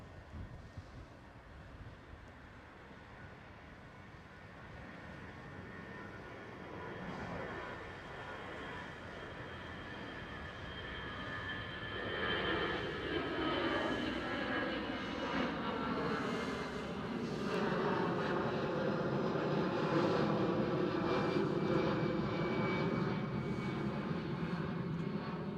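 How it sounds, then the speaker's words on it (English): An Iberia Airbus A320 airliner at Schiphol Airport in Amsterdam gives off a steady jet engine roar that builds and swells into a loud, rising whine, with no voices over it. "There is the Iberia, Airbus A320."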